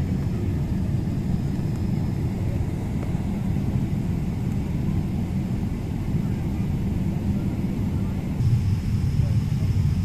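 An Emirates airliner lands on the runway, heard as a steady, heavy low roar that holds for the whole stretch, with a faint murmur of voices beneath it.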